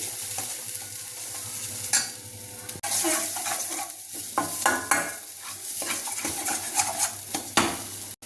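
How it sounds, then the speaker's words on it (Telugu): Masala paste fries in a pan while a spoon stirs it, with a steady close sizzle, scraping strokes and occasional metal clinks against the pan. This is part of cooking a mutton curry. "ఇలా లైట్ ఎరుపు వచ్చేంత వరకు ఈ మసాలా ముద్దని వేయించాలి"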